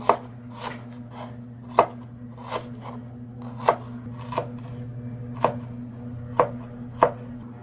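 A knife finely chops onion on a wooden board in sharp, separate knocks, roughly a dozen spaced taps close by over a low steady hum.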